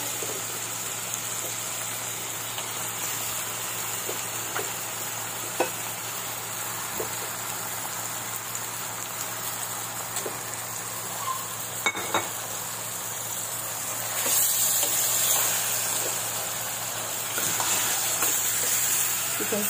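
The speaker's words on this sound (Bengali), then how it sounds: "এখন আমি চিকেনটা দিয়ে দিব।" Chicken dropped into hot home-ground spice paste in a pan for chicken bhuna, producing a continuous crackling sizzle with occasional clinks, swelling louder near the end.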